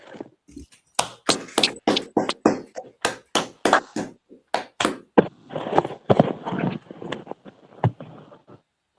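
Small group clapping in a class setting, a series of sharp, separate hand claps in an uneven rhythm, then a looser scatter of claps that fades out.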